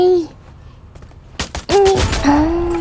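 Gunfire in the Free Fire Max video game: a rapid burst of loud shots in the middle, close and sharp, with tonal game sounds before and after and a voice talking over it.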